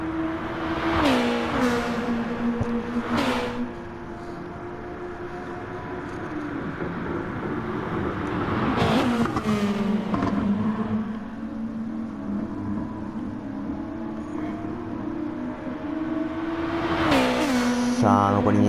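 Race car engines lap the Dragon Trail circuit in a night endurance race in a racing game, a continuous loud drone with repeated rising gear-shift sweeps and brief passing whooshes, under occasional commentary.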